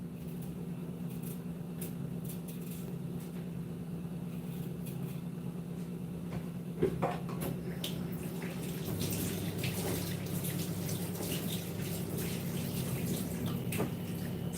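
Water boiling in a pot on a kitchen stove, a steady low rumble and hiss with faint bubbling, fairly quiet and continuous, with one brief clink midway.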